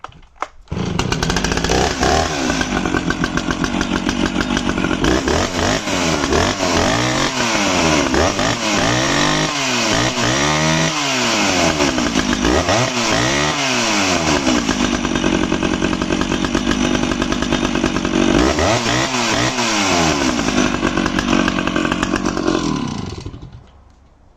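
A 056 AV chainsaw engine runs loud and close throughout, revving up and down repeatedly in rising and falling surges before cutting off at the end.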